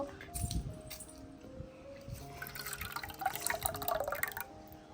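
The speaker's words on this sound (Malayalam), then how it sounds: "കുറച്ച് വെള്ളം ഒഴിച്ചു" Water is poured into a glass with splashy trickles and drips, and a few light clinks of glass rise near the end. The sound is close and moderately loud, and no one speaks.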